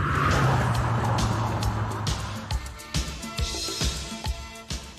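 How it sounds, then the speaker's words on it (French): A Renault sports car engine, close and loud, droning steadily with a strong low growl at first, then roughening with brief bursts and pops as it keeps running. "Avec le son mélodieux dans les oreilles, il n'y a pas besoin d'autoradio dans cette voiture"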